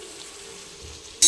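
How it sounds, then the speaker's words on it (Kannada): Vegetables fry in hot oil with mustard seeds for a Karnataka rice usli with moong dal, a steady, close sizzle that ends in a sudden loud burst of spattering. "ಸೊ ಈಗ ನೋಡಿ, ಎಲ್ಲನೂ ತರಕಾರಿಗಳನ್ನ ಹಾಕಿದ್ದೀನಿ. ಈಗ ಇದನ್ನು ಫ್ರೈ ಮಾಡ್ಕೊಳ್ಳೋಣ."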